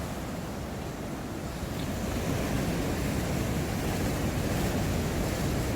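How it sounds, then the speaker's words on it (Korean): Big sea waves roar and crash continuously at a coastal car-camping spot, a steady broadband wash of surf mixed with wind noise on the microphone, fairly faint and with no voices. "와 파도가 엄청납니다"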